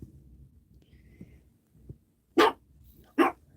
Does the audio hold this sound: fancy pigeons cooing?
no